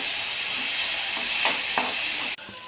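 Onion and tomato sizzle steadily in a hot pan for a pasta sauce, a continuous loud frying hiss with a few brief stirring scrapes, ending in a sudden drop near the end.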